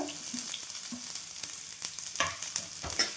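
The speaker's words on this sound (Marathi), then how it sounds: "हिरवी मिरची आणि खोबरं आणि कांदा आपण भाजून घेऊया" Green chilli, coconut and onion frying in oil in a kadai, giving a steady close sizzle with occasional stirring scrapes and clinks throughout, no talking.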